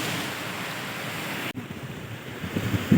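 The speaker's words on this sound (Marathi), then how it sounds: "समुद्राची कंडिशन बघू शकता किती बेकार आहे पहा खूप रफ आहे समुद्र" Rough sea off Ratnagiri during bait fishing from a boat: a continuous roar of surf and buffeting wind that cuts out briefly midway, then returns with growing gusts and crashing swells.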